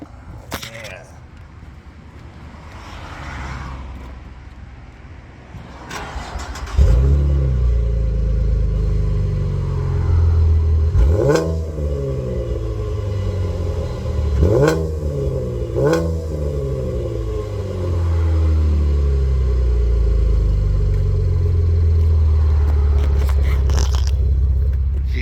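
A 2015 Camaro V6 with a custom Black Widow exhaust starts up and idles with a deep rumble, then gives several sharp revs before settling into a steady, close, loud drone, with a person talking at the start.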